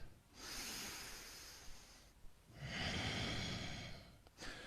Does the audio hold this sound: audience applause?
no